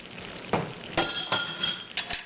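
Beans are added to a pot of simmering tomatoes and spices with a handful of close, sharp clinks and clatters against the pot, spaced irregularly over a quiet background.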